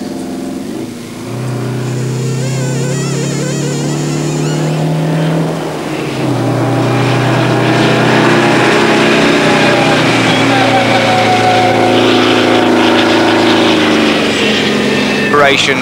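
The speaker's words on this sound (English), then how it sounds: "the howling exhaust note of the two-stroke Detroit diesel V8 heralds the arrival of Jacques Hussard, driving that truck to its very limit" A two-stroke Detroit diesel V8 truck runs hard in a Paris–Moscow–Beijing rally stage, its loud, continuous howling exhaust holding for the whole stretch while a narrator speaks over it.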